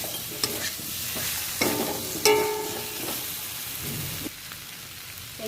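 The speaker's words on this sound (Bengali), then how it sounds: "ভেজে রাখা চিংড়ি মাছটাও দিয়ে দিলাম, দিয়ে আবারও একটু নেড়ে ছেড়ে দেব।" Fried prawns and jackfruit get stirred in a frying pan, with a loud crackling sizzle, a few sharp metallic scrapes and knocks, and no talk.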